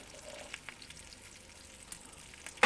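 Bacon fries over an open kitchen fire, giving a steady, close crackling sizzle with small irregular pops and spits and a sharper burst near the end, with no voices.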